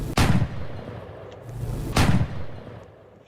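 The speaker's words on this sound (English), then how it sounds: "I added freaking like a very short pump shotgun as well to the game too" A short pump shotgun fires twice in a magic-themed video game, each blast a loud booming crack with a brief decaying tail, spaced about two seconds apart.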